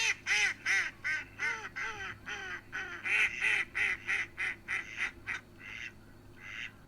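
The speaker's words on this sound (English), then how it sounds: "It is a mallard." Mallard duck calling in a steady series of about a dozen loud, nasal quacks that slow and thin out toward the end, close to the microphone over a quiet background with no talking.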